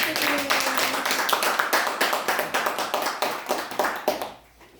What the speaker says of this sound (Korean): 자 그럼 뭐 박수